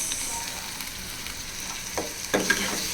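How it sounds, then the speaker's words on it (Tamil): Tomatoes frying in a pan with onion and ginger garlic paste for vada curry, a steady broadband sizzle with light stirring scrapes near the end, close and continuous. "அதையும் நல்லா ஃப்ரை பண்ணிப்போம்."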